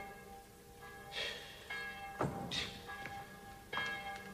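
A church bell tolls in the distance during a stage play, with several faint, ringing strikes over a steady background hum.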